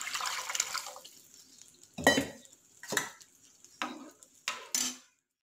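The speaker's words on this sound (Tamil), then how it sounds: "புளி கரைச்சி வச்ச தண்ணியை ஊற்றிடலாம்." Tamarind water poured into a cooking pot for a village dried-fish curry: four or five short splashing pours with clinks of vessel and pot, close by and separated by quiet gaps.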